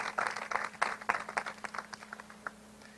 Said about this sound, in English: Let's give Kaden Moxie a round of applause again.